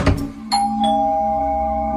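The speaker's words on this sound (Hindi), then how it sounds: "तो डोरबेल बजी।" A doorbell rings late at night at a house door, a bright two-tone chime whose second note lingers and fades, preceded by a brief knock-like thump, with no voices.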